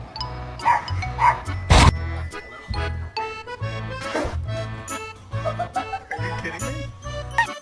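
A pet dog barks and yips repeatedly at close range, a string of loud, uneven woofs with short gaps between them and a faint jingle now and then.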